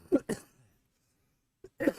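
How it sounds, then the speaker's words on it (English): A man coughs several times in sharp, close bursts: two quick coughs together, a pause of near silence, then a brief catch and one more cough. "I wish I had a mute button I could push while I cough"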